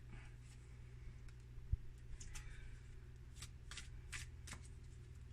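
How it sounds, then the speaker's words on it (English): Tarot cards shuffled and drawn: quiet papery riffles with soft flicks and a single sharp tap, over a low steady background hum, with no talking. "Let's pull some more cards, see what we get."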